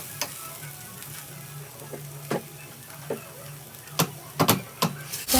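Eggs fry in a little oil over a medium flame, a soft steady sizzle broken by sharp crackling spits and pops that cluster toward the end, close up with no talking.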